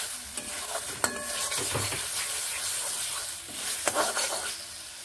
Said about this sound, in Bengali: খুব ভালোভাবেই এই মশলাটিকে আমি এইভাবে কষিয়ে নিচ্ছি